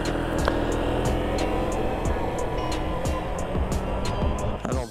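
A Super Soco TC Max electric motorcycle is ridden on a mountain road on Réunion island. Steady wind and road roar dominate, and any faint motor whine stays buried beneath it. No one talks.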